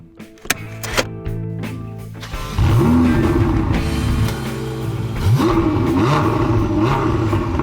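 A few sharp clicks, then a loud Mini car engine whines and revs up, rising and falling in pitch as it accelerates, close and continuous.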